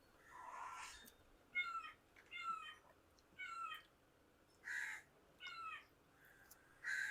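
Crows caw outdoors in Goa in repeated separate calls, several in a row with short gaps, moderately distant over a quiet background; a cat-like meowing cry may mix in among them.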